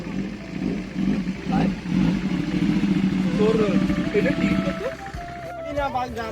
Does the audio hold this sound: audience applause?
no